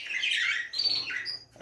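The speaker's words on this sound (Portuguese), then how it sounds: "aquele casal de periquito." A pair of parakeets squawks in continuous harsh, shrill bursts, close to the microphone, with a brief pause and then more squawking, and no voices over it.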